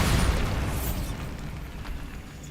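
A Bombarda spell explosion in the video game Hogwarts Legacy: a single loud boom at the start that decays into a long rumbling, crackling tail.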